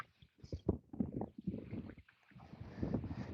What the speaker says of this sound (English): look how windy, y'all